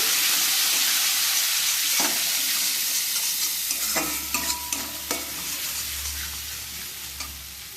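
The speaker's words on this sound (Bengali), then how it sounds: "দিয়ে দেবো কাজু বাদাম আর তিল বাটাটা, দিয়ে একটু নাড়িয়ে চাড়িয়ে" Cashew and sesame paste stirred in a hot frying pan while cooking a green banana curry, with a steady sizzle, scattered scraping taps and a low hum rising in the background.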